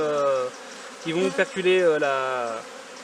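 Honeybees buzz at a hive during queen rearing, a close, loud hum that wavers in pitch and swells and dips over a few seconds.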